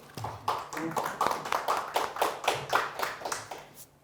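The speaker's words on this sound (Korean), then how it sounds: "박수로 맞이해주시죠" An audience at a water-policy forum session in Chuncheon claps to welcome a professor, a loose, rhythmic patter of individual hand claps that swells and then tapers off near the end.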